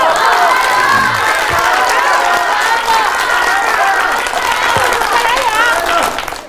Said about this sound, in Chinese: 是不是有人教你们怎么起哄了？